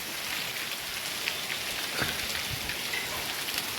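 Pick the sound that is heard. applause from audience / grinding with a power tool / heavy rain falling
heavy rain falling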